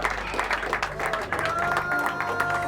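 Crowd applause with cheering at a Guinness World Records ghost pepper eating event, dense steady clapping and voices throughout, fairly loud and close with no clear speech.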